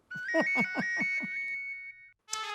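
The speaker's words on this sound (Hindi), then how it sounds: "फोन की घंटी बजी" Phone ringtone chiming in a rapid melodic run of bright electronic tones, then a pause and a short second burst, fairly soft in an indoor family setting.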